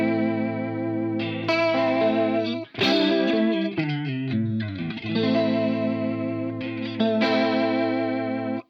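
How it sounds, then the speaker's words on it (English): Guitar run through a Universal Audio Astra Modulation Machine pedal switched to vibrato mode, loud sustained chords and notes with a wavering pitch, a brief break near three seconds, then more strummed chords, no talking. "that puts the pedal into a vibrato effect mode."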